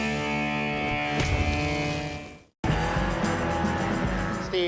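A stunt performer's vehicle engine held at full throttle, a loud, sustained, high-revving roar with strong harmonics that cuts out abruptly for a moment and then resumes at full volume.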